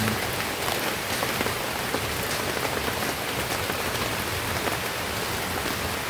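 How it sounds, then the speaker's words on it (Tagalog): Heavy rain pours onto leaves overhead in a dense, steady patter, loud and close, with no pauses or voices across the whole stretch. "Pusok pa dyan ng ulan"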